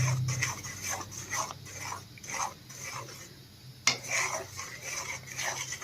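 Jaggery melting in a pan for puffed rice laddu is stirred with a spoon, giving repeated scraping and clinking strokes in an irregular rhythm, close and moderately loud, with no talking.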